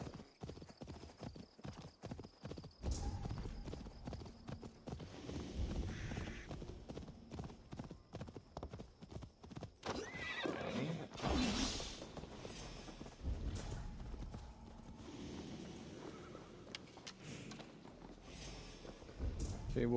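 In Assassin's Creed Valhalla, a ridden horse's hooves clatter in a quick, regular clip-clop for the first half, then give way to a busier blend of game sounds with snorting and speech over parts.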